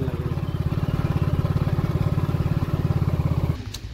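A super bike motorcycle idles steadily with a throbbing mid-pitched engine rumble at a parking lot by a zoo gate in Bokaro Steel City, then the engine cuts off, leaving a faint click.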